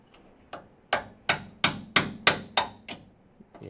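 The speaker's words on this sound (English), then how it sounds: "Let me get my new chisel and my new ball peen." A new ball peen hammer strikes a new chisel in a Charger restoration shop, about nine sharp metallic blows in a steady rhythm, close and loud, each ringing briefly before the next.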